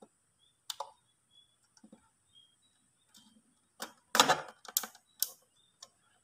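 Small plastic clicks and taps of a SIM card being pushed into the slot of an HSAirpo LTE300 LTE modem, a few sharp close clicks clustered near the end with quiet gaps between.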